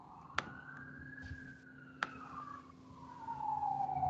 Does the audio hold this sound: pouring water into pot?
no